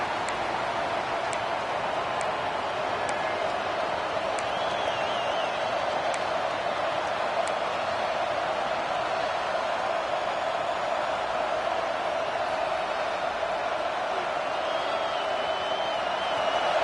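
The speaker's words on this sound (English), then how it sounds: "And the crowd coming to life here, trying to help this defense down in the red zone." Football stadium crowd during a Miami vs Florida State game, a steady wide roar of many voices rising as the home defense holds in the red zone, constant and loud throughout with faint whistle-like tones above.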